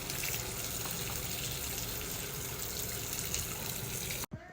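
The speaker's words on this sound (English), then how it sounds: "So Let's try this hot water." Hot water gushing from a tap during a fuel pump replacement job on a 1990 Mazda Miata, a steady close rushing stream that cuts off abruptly near the end.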